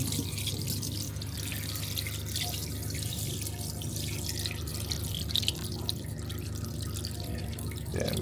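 Water runs steadily from a motorhome tap while waiting for hot water after the gas system is switched on, a continuous close trickle with light dripping and no talk.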